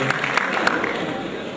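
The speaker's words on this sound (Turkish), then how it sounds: "yönetim kurulu alkışlarla yerlerimize alıyoruz" Audience applause at a village association evening as the board takes its seats, a brief burst of clapping with a few sharp claps standing out over a busy hall.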